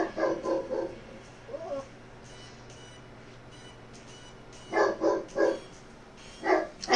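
A dog barks at a neighbour in short bursts: a quick volley of barks, a brief yip, a pause, then three sharp barks and another pair, moderately close, with no talk.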